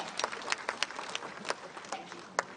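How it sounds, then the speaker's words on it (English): Scattered audience clapping at a school cyber-safety competition finale, light and uneven with individual sharp claps standing out, moderately distant, no talk. "A huge round of applause for Janeya."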